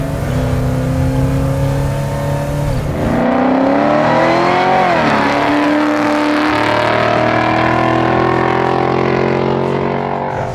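A supercharged LSA-powered 1967 Pontiac GTO restomod accelerates hard, its engine note climbing loudly and dropping sharply at firm gear shifts, then pulling again in a rising roar with no talk.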